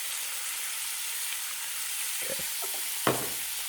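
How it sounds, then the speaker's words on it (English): Onions fry in a pan with a steady, bright sizzle, broken near the end by a few clicks and scrapes of stirring. "This is also the first time I'm cooking onions"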